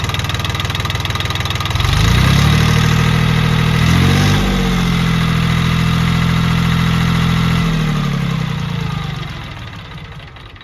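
A Jinma Smartrac compact tractor engine runs steadily after timing adjustment, a loud, close mid-pitched diesel chug that rises in load around two seconds, holds, then eases off near the end, with no talking.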